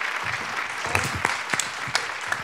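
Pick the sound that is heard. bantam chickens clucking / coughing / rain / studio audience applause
studio audience applause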